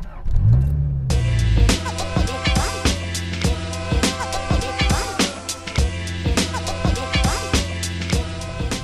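A rare sports car engine fires up after a brief starter whir, then settles into a loud, rough idle with repeated sharp revs and clattery mechanical ticking close by.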